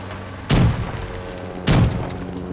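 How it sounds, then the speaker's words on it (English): Shotgun in Rising Storm 2: Vietnam firing slug rounds: two loud, booming shots about a second apart, each followed by a rolling echo, with no talking. "These are slug rounds, so I'm firing big solid."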